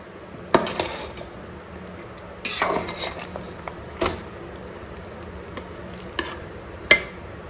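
Quiet crackle of tempering spices frying in oil, broken by several sharp clinks and scrapes of a utensil against a pan.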